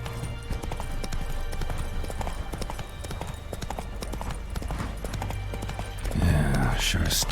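Roach, Geralt's horse in The Witcher 3, trots along with steady, close clip-clopping hooves over a low game ambience, a brief louder flurry of movement near the end.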